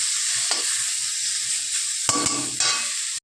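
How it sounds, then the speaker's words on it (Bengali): Potatoes, tomatoes and chillies fry in a pan with a continuous close sizzle and hiss, broken by a few scraping stirs, with no talking over it. "আর এই যে আলু, টমেটো, লঙ্কা এগুলো ভেজে নিচ্ছি"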